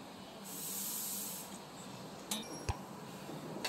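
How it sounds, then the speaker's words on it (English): Short compressed-air blasts clear debris from a hole drilled into a broken bolt in an engine crankshaft: a soft steady hiss at first, then a few sharp puffs and bursts near the end, close and fairly quiet with no talk. "So I'm going to use some compressed air, keep everything clean"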